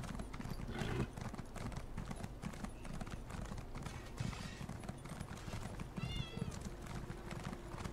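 Clip-clop hoofbeats of a trotting horse mount in the game Elder Scrolls Online, a steady rhythmic patter that runs throughout alongside game ambience, with a brief whinny-like call near the end.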